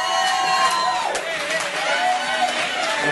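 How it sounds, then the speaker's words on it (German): Audience applause at a country music awards show in Haag im Hausruck, a steady crowd noise with clapping and some cheering, carrying on under talk from the stage. "Applaus."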